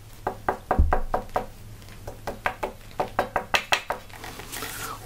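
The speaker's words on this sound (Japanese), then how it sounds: "タッピングした音もですね、普通のメイプルの音聞こえますかね" Knuckle taps on an unroasted maple guitar neck ring out as short, hollow wooden knocks, close and distinct, in quick even groups of several taps separated by brief pauses, over a low steady hum.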